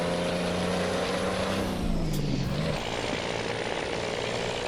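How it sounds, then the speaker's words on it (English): A Mack R heavy-haul truck in American Truck Simulator shifts gears: steady engine drone steps down in pitch as revs drop between gears, with a hiss of air, loud and close, no talking. "Going through my gears too quick."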